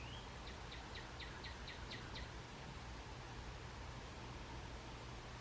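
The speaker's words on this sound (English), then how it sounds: "Keeps on chirping outside the window." Faint bird chirps outside a window: a quick run of about seven short tweets in the first two seconds, then only a soft, steady hiss of background noise.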